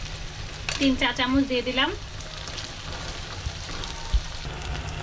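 Ginger, garlic and onion paste sizzling in a pan of hot oil after onions have browned, a steady close frying hiss while someone speaks briefly over it.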